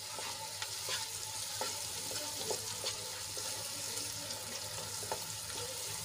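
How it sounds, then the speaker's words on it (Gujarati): Spiced vegetable gravy with salt and garam masala sautéing in a pan, a continuous close sizzle and bubbling with repeated scraping and stirring strokes. "મિક્સ કર્યા બાદ આપણે એને થોડીક વાર માટે સાંતળી લઈશું"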